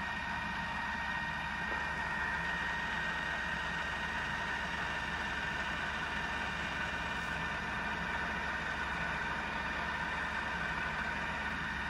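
A Falconi 50 mm radial drilling machine runs steadily at its maximum speed of 1650 RPM, giving a continuous, even motor and gearbox hum with a bright whine on top and no pauses.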